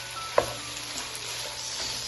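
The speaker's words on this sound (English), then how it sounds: "you're going to go ahead and add your green chili" Green chili peppers sizzle in a hot pan for chilli chicken dry, a steady close hiss with a brief clatter of stirring near the start.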